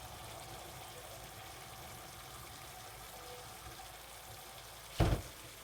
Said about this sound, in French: Allez, on va mettre l'eau bouillante.